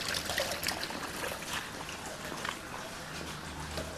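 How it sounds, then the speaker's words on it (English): Water trickles and gurgles along a small watercourse in Launceston, Tasmania, a continuous close, fairly quiet bubbling stream with no voices. "The water course running through there."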